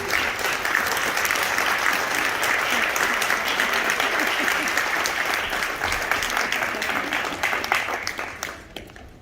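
A room full of people gives a standing ovation to present and past members of a theater company, sustained loud applause that holds steady and then tapers off abruptly at the end.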